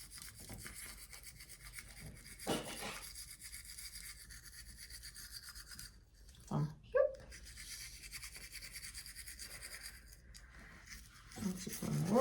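A toothbrush scrubbing a young child's teeth at home, soft intermittent rubbing strokes in short bursts separated by quiet pauses, close and faint, with no talk during the brushing.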